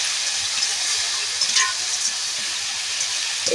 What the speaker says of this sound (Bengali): লাল নোটের শাক ভাজা করার জন্য আমি একটি কড়া বসিয়ে দিয়েছি। এবার শাকটাকে ঢেলে দেব।